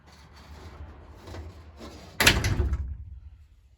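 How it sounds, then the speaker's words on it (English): A door being repaired is sent down and closes with one loud, sudden thud after quiet shuffling, then the sound fades out. "Send the door down."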